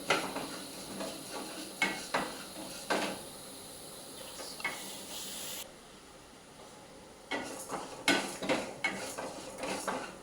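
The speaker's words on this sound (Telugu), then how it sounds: "మినపప్పు కూడా లో ఫ్లేమ్లో మంచి కలర్ వచ్చేదాకా వేయించుకోవాలి." Urad dal roasting in a pan over a low flame while a spoon stirs and scrapes, sharp metallic scrapes and taps in an irregular rhythm over a faint steady hiss, close and fairly quiet.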